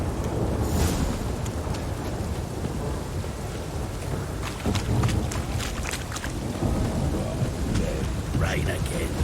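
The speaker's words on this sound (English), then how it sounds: "Rain again." Heavy rain hisses continuously in the video game The Witcher 3: Wild Hunt, a loud dense wash with wind and low rumbles throughout, and voices talking faintly beneath it.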